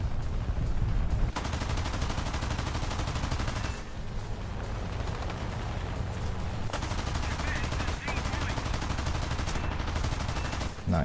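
Aircraft cannons and machine guns in War Thunder air arcade battle chatter in dense, sustained bursts over a constant engine roar, with a few short breaks in the firing.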